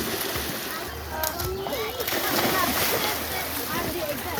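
Boys somersaulting and swimming in the water of the Kalibari pond: splashing and sloshing water throughout, with voices talking over the watery churn.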